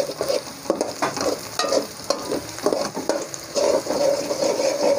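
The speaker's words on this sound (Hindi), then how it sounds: "अब इसमें लहसुन डालेंगे, तो थोड़ा सा फ्राई कर लेंगे" Garlic sizzling and frying in a hot pan while cooking sarson ka saag, with a steady crackle and occasional scraping stirs close by.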